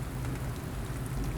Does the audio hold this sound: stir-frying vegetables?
no